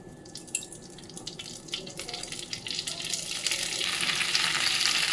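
Oil sizzles on a flat tawa under banana-style leaves laid out for fish paturi, a quiet crackle that starts sparse with a few pops and scrapes, then swells into a steady, brighter hiss by the end.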